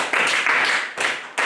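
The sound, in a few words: congregation clapping hands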